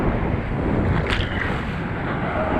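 Strong sea waves at the shore produce a continuous broad wash of surf and wind noise, steady and fairly loud with a brief brighter splash near the middle, no voices.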